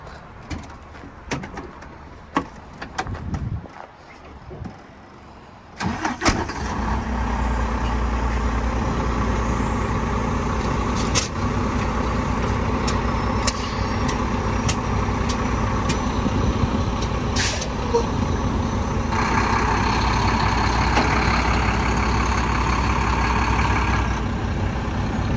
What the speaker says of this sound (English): Next, we will go inside and disengage the tractor.